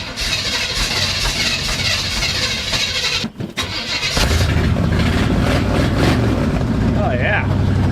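A 1959 Dodge plow truck engine cranks, briefly cuts out, then catches and settles into a loud, steady rumbling idle nearby, with a voice talking over it near the end.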